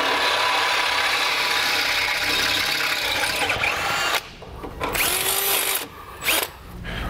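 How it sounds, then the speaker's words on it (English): A power drill bores holes, stepping up to a half-inch bit, while installing a rear anti-sway bar on a 2015 Ford F-53. A steady close whine runs for several seconds, then breaks into short bursts with pauses. "we can go from the inside and drill our holes out in a step process until we get to our half-inch final"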